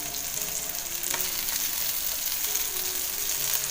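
Surmai fish fillets coated in rava masala shallow-frying in oil in a pan, a steady, even hiss of sizzling close by with no talk.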